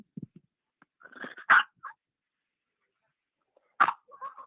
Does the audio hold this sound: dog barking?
yes